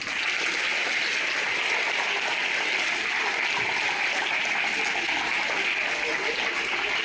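Audience applause at a school debate competition, welcoming a teacher to the stage; steady, broadband clapping from a crowd of students that holds evenly throughout, with faint background chatter mixed in.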